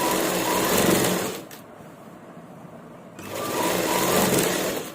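A sewing machine stitches a kameez, running in a loud, fast, even whir, pausing briefly into quiet, then starting again at the same steady pace.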